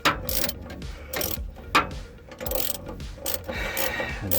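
A ratchet wrench clicking while bolting in an RV starter, irregular bursts of sharp rapid ratcheting with short gaps between strokes, close up and without talk.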